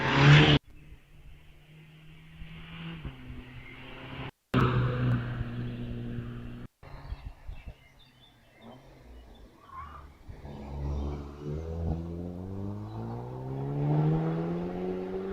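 A Mazda MX-5 races up the Wiscombe Park hillclimb, its engine revving hard through several gear changes, then climbing steadily in pitch as it pulls away.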